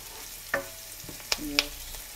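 Garlic, onion and ginger frying in oil with cumin, a soft low sizzle broken by a few small crackles and clinks of stirring, close but quiet.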